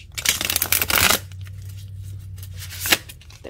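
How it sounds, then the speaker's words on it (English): Tarot cards riffle and bridge in a dense burst of crisp flapping for about a second, then a quieter pause and a short final snap of cards settling. "Let's give it a good shuffle."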